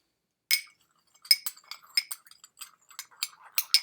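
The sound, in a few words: stirring salt into water, clinking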